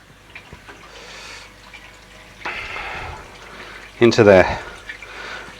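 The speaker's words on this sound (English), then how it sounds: "So we're actually getting flow, and you can actually see the way the water's moving around." Water flows and churns through a DIY moving bed barrel filter filled with HEL-X 13 bio media, a steady trickle that swells into a louder gush near the end while someone talks over it.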